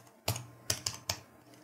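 A computer keyboard being typed on while entering a website address, four distinct close key clicks in an uneven rhythm against a quiet background.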